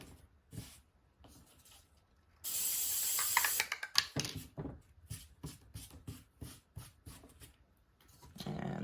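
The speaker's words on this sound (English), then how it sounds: "Take your tacky spray." Tacky spray adhesive hisses from an aerosol can in one loud burst of about a second onto upholstery fabric on a thrift store bench, followed by quieter rustling, crinkling and handling clicks.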